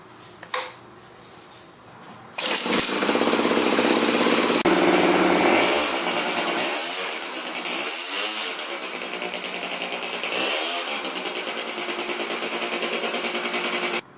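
A Yamaha Jog two-stroke scooter engine starts after a top end rebuild and runs with an idle air screw adjustment, buzzing loud and close for about twelve seconds with a few rising and falling revs.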